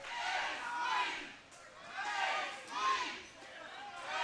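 A wrestling crowd cheers and roars in surging waves behind a struggling competitor, swelling and fading several times as a dense, distant mass of voices.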